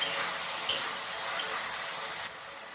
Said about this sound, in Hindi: इसमें 2 चम्मच अदरक लहसुन का पेस्ट ऐड करेंगे। इसे लो फ्लेम में 2 से 3 मिनट तक फ्राई करेंगे।